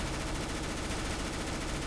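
A P90 submachine gun fires in Counter-Strike: Global Offensive as a steady, rapid automatic burst, evenly dense and fairly quiet, lasting the whole short stretch with no talk.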